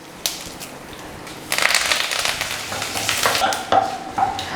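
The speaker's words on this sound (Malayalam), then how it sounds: "ഇനി നമുക്കിതിനകത്തോട്ട് കുറച്ച് കറിവേപ്പിലയും കൂടെ ചേർത്ത് കൊടുക്കാം." Curry leaves and dried chillies dropped into hot oil for a wild lemon curry, bursting into loud crackling sizzle after a few light taps, spitting and popping steadily up close.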